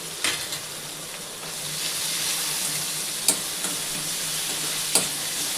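Fenugreek leaves stirred into dal in a pan, a steady sizzle and soft scraping with a few sharp spoon clinks against the pot.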